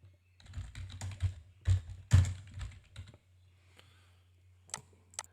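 Someone types on a laptop keyboard, with quick clusters of close, crisp key clicks, a short pause, then a couple of final taps over a faint low hum.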